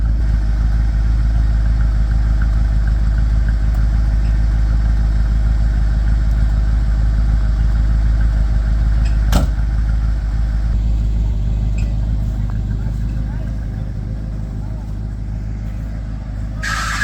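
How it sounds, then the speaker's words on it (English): A Bombardier snow vehicle that has sat parked for a couple of months idles steadily as it warms up, a continuous low engine rumble with a brief sharp click partway through, fading slightly toward the end. "It's been parked here for a couple of months, so Dad's just letting it warm up."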